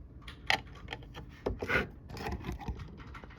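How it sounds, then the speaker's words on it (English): A Phillips screwdriver backs screws out of a vintage GE 7-2826A AM/FM radio, giving faint close scraping, rubbing and small clicks in irregular bursts with no voices. "Next step will be to remove these with the same Phillips screwdriver."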